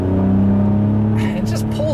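A 2014 Honda Accord V6 coupe with a manual gearbox accelerates in third gear, its engine giving a steady loud drone that climbs in pitch while someone talks over it from inside the cabin.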